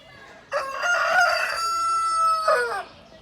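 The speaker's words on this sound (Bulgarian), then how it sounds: "Петел, айде изкукурига и пак, заради мене." A rooster crows loudly and close by, one long rising cock-a-doodle-doo followed by a brief final flourish, with quiet surroundings before and after.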